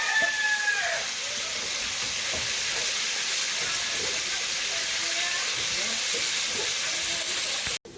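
Cumin seeds crackle and hiss in hot oil left in the pan after frying fish, a dense continuous sizzle with faint clatter underneath, ending abruptly.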